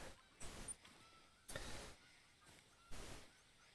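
Geese honk overhead in The Hunter: Call of the Wild, three separate faint honking bursts spaced about a second apart against a quiet background.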